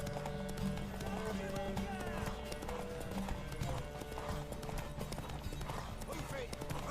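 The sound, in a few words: horse galloping in The Witcher 3 video game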